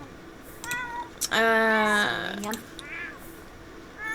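Cats meowing loudly during a fight, a long drawn-out yowl in the middle with shorter meows before and after, and people talking close by.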